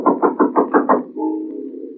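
Knocking at a door in a radio drama, six quick evenly spaced raps, loud and close, followed by a sustained tonal hum.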